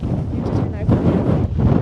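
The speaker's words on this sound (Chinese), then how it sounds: "现在风很大" Strong wind blows near the source of the Yangtze River on a high plateau, a loud, continuous low roar buffeting the microphone with gusts swelling throughout.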